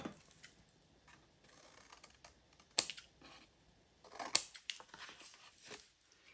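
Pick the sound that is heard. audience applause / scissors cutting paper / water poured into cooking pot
scissors cutting paper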